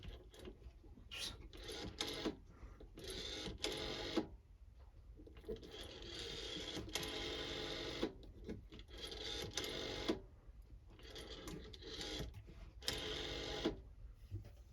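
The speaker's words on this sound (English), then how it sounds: "Again, we'll dial some numbers." Numbers are dialed on an Italian Siemens/Italtel S62 rotary telephone, a series of whirring, clicking dial returns in bursts separated by short pauses, close and fairly quiet.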